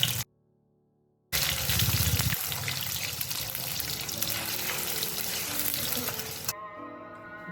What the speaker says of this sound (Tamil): இப்போ எல்லா பன்னீரையும் அதே மாதிரி வறுத்து எடுத்துரும்.